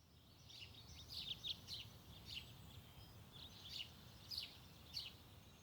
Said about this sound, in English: I woke up to the sound of birds chirping.